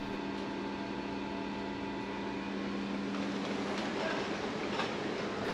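Continuous low rumble and hum of a Turkish high-speed train rolling along rails, heard from inside a business-class carriage, steady and moderately quiet with faint rhythmic rattling.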